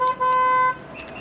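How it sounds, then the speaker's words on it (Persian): A car horn honks twice in a Persian street scene, one short toot then a longer steady blast, loud and close, with a faint voice afterward. "واسه چی بوق میزنی؟"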